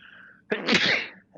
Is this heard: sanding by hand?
no